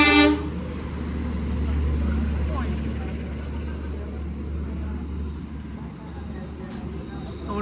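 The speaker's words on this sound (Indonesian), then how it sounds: "Wah, kereta api, guys." A train horn sounds at a busy Indonesian railway station, a long, loud tone at the start that trails off under a steady low rumble and platform noise, with people talking.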